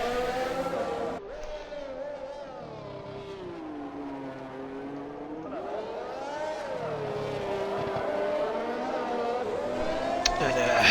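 In a Monaco racing video game, a race car's engine whines through a flying lap, its pitch dipping and rising with gear changes under steady commentary.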